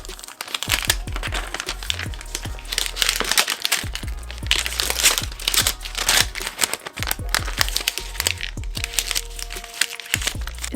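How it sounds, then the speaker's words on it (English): Paper wrapping is torn and crumpled off an Apple AirPods Max headphone case, with loud, close, repeated crinkling and sharp tearing bursts over about ten seconds. "So let's get this paper off of it because they really know how to wrap their products."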